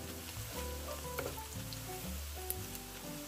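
Onions frying golden brown in hot oil for kala bhuna give a steady close sizzle, with occasional stirring scrapes and small pops, no voices.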